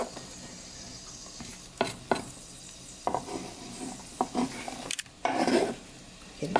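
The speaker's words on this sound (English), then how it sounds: "So we are adding our 1 stalk of celery and our 2 red peppers." Celery and red peppers going into a pot for corn chowder, with soft stirring, clinks of a utensil against cookware and quiet scraping, close and fairly faint.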